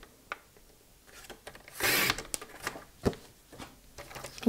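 Whisper-white cardstock is cut to size in close, faint scraping and rubbing strokes, with one louder swipe of the cut in the middle and small taps around it.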